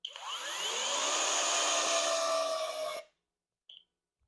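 A Hoto 12V brushless drill runs at reduced speed and torque, a high whirring motor whine that holds steady for about three seconds and cuts off, followed by a brief short blip.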